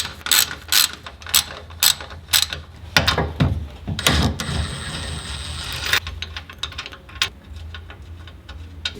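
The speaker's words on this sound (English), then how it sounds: "Now we're going to loosen up our sway bars. So there's two 14mm bolts." A hand ratchet clicks in quick rhythmic bursts while loosening two 14mm sway bar bolts on a 2020 Toyota Tacoma TRD Pro. It is close and sharp, with short gaps and a few heavier clunks between strokes.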